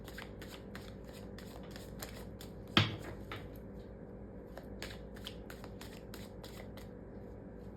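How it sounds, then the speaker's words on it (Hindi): Tarot cards are shuffled close up in quiet surroundings, a run of soft, crisp riffling flutters with one sharper snap of the deck partway through and no talking. "और तो जब तक मैं शफल कर रही हूँ,"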